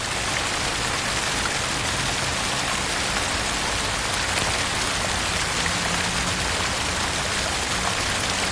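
Heavy rain pours down beside a road, a dense, unbroken hiss of drops striking the surface with running water underneath, loud and constant throughout.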